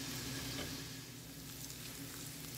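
Onions and mixed vegetables sizzle softly in a pan as they soften, a steady, even crackle and hiss with no talking.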